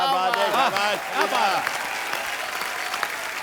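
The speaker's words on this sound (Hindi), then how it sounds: "जोरदार तालियां शबीना जी के लिए" A studio audience on a comedy talk show applauds for a guest, lively clapping under a voice speaking over the first half, then the clapping continues alone at a moderate level.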